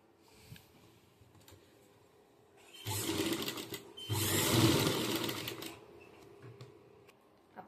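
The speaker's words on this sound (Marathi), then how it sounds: "आपण याला शिलाई टाकून घेतली अशा इकडच्या साईडने" A sewing machine runs in two bursts, a short run then a longer steady one, stitching a strip onto a prince-cut blouse, close and fairly loud over a quiet room.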